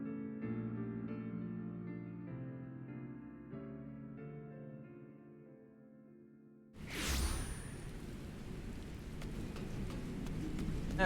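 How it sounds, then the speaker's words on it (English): Rain in the video game Final Fantasy XIV starts partway through, a sudden broad hiss that follows soft game music. The rain keeps going steadily to the end. "And of course it's raining."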